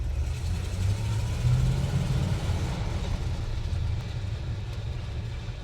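A 1966 Jeep Gladiator rolls along with a steady low rumble of engine and wheel noise, fairly loud and unbroken, with no talk.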